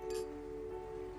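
Glasses clink once at the start in a toast, a bright short chime over a steady low hum.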